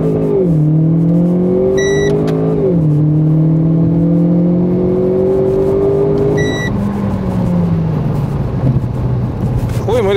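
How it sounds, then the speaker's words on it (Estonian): A Renault Clio RS pulls away on launch control, its engine note climbing steadily through gear changes, loud and close inside the cabin throughout with no talking. "Mõlemad hoovad enda poole, pidur peale, kaas põhja ja tuld."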